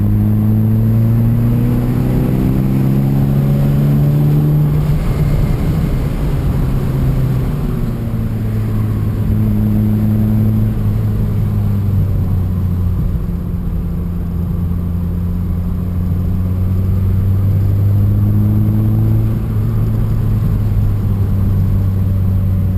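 A VW Corrado G60 engine pulls strongly under acceleration, its harmonic drone rising and falling through several gear-like sweeps, loud and close throughout with no talk over it.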